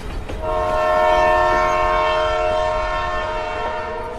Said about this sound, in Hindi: ट्रेन फुल स्पीड से हॉर्न बजाती हुई